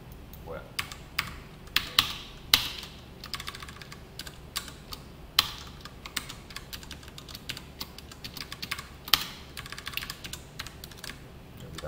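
Steady typing on a computer keyboard while code is edited, with irregular bursts of close, crisp key clicks and a few harder thumps like the space bar or enter key. Spacing between the bursts varies.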